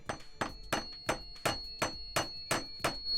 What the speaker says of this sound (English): hammer him more.